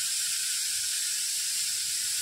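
Chopped tomatoes frying in a pan of sautéed garlic paste for mutton gravy give a steady, close hiss and sizzle that runs unbroken throughout, with no one talking.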